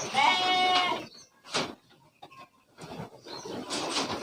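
Boer goats bleating in a farm pen, several short, nasal calls in bursts with brief pauses, fairly close, with other livestock faintly present.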